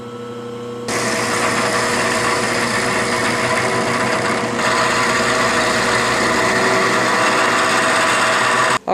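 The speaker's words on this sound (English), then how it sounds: "Now I'm going to take a 1/2 inch carbide end mill and do a cutaway view of the inside of this weld." A half-inch carbide end mill cuts into a friction-welded metal tube, a loud steady whine and grind that starts abruptly and runs unbroken, cutting off right at the end.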